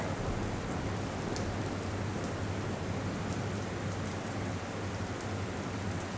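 Heavy rain pours steadily over Vadodara during a long downpour, a dense, loud, unbroken wash of noise with no pauses and no voices.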